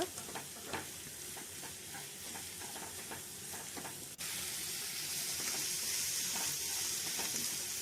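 Sliced onions fry and sizzle in a pan with ginger garlic paste and salt for a beef roast, a steady crackling hiss with occasional stirring scrapes, heard close and without talk.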